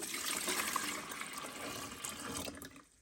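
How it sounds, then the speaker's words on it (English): Water pours steadily into the tank of an Arctic Air Tower cooler with a continuous rushing splash, then cuts off abruptly at the end. "we're going to go ahead and fill her up with some water"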